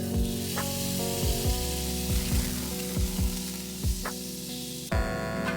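A chopped onion sizzles loudly in a frying pan where meatballs were just cooked, a continuous close hiss with occasional spatula clinks and scrapes and no voices.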